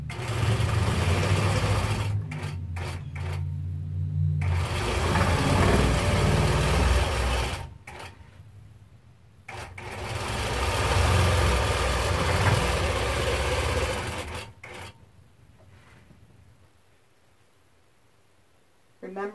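A Nolting Pro-Series longarm quilting machine sews binding straight down the right side of a quilt, humming loudly in two long runs with short breaks, then fading to a low idle.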